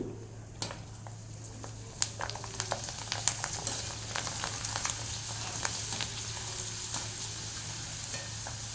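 Okra frying in a pan, a steady close sizzle with scattered crackles and pops and occasional stirring clicks throughout, no talking.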